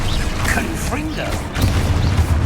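The Confringo fire spell goes off in the Hogwarts Legacy video game with a booming, crackling burst that swells near the end. A voice calls out over it.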